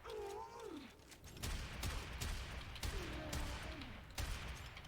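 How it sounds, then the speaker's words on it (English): Shotgun fire in the Warframe video game: several sharp, booming blasts spaced about a second apart over a busy game background, with faint whistling creature-like tones in between. "this thing is actually a pretty accurate shotgun and has good range on it"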